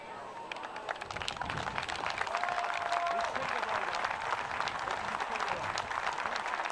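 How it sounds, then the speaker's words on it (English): A stadium crowd at a Swiss rugby match gives a minute's applause tribute for a legend of Swiss rugby, the clapping building after the first second into sustained, dense applause heard from a distance. "the crowd partaking in a minute's applause for a legend of Swiss rugby"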